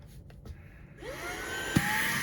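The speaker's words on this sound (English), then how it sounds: "There's a vacuum." A Fanntik Slim V8 Apex cordless air duster switched to vacuum mode whines steadily, its pitch rising after spinning up from quieter handling noises, with a brief knock near the end.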